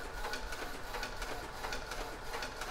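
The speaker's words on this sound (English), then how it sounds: "the business card design is actually printing out of the Sawgrass die sublimation printer" A Sawgrass dye sublimation printer runs a business card print job, giving a steady rhythmic mechanical chatter of repeating pulses at a moderate level, close by with no talk.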